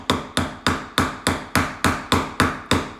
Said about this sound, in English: he's hammering his PVC in